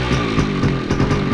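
A motorcycle engine runs close by with a loud, raspy, pulsing idle and brief revs, filling the short moment on its own.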